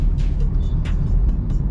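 A Maruti Suzuki Baleno car is driven on the road, heard from inside the cabin as a steady, close low rumble of engine and road noise.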